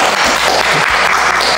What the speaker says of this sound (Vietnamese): Vỗ tay ạ.